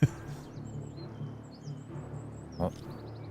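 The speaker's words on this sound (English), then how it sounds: "now there's just birds chirping" Birds chirp faintly in the background of a quiet scene, with scattered high tweets across the stretch and a brief louder call near the end, over a steady low hum.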